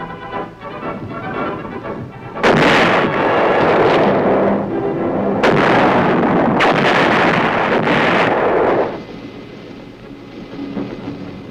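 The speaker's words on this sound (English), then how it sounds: "the 175s reliably deliver shells with pinpoint accuracy on targets over 10 miles away" 175 mm artillery guns firing shells at Aberdeen Proving Ground, heavy booming blasts and rumbling reports in quick succession, loud and outdoors with wind buffeting the microphone.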